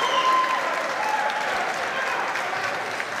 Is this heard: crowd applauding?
yes